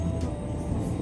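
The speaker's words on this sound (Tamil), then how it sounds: "இன்னொரு ட்ரெயின் போகுது." A passing train rumbles steadily and low, a continuous close roar with faint higher hiss and no break over the short span.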